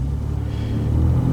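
2023 Ford Ranger Raptor driving at normal pace, a steady low engine rumble and drone heard from inside the cabin, loud and continuous without any revving, with no voices.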